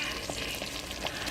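Egusi soup with catfish simmers in a pot, giving a steady, soft sizzling and bubbling texture that stays even throughout with no talking.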